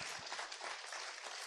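Audience applause fills a conference hall at a medical gathering, a dense, steady wash of many hands clapping together without pause.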